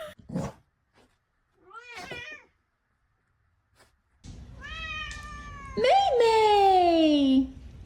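A cat meows and caterwauls, a few short cries followed by a long, loud, drawn-out wail close to the microphone over a low background hum.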